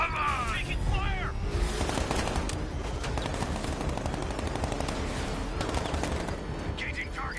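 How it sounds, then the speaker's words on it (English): Rapid gunfire in Batman: Arkham Knight, a steady stream of loud automatic bursts and cracks during a combat encounter, continuous throughout with game noise layered underneath. "Taking fire!"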